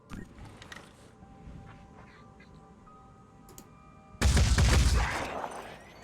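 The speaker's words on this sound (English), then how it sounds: "Let's run on in and start shooting this Chiron." Gunfire from the tactical video game Phoenix Point, aimed at a Chiron: faint mechanical ticks at first, then a single loud burst of firing and impact lasting under a second.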